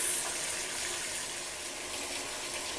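Water gushes steadily from a tap into a bathtub holding bubble bath and Teletubbies toys, a constant broadband rush with no pauses.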